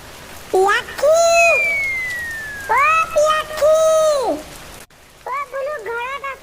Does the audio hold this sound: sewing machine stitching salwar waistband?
no